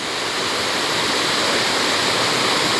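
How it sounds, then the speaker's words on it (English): Waterfall in Skútudalur on a hike, a loud, close and unbroken rush of falling water, steady broadband roar throughout with no talking. "that's a beautiful piece of water flowing"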